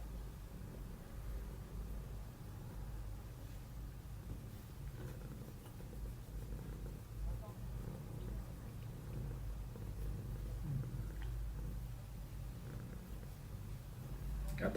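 A cat purring close by, a low, steady, continuous rumble that stays faint and even throughout with no talking.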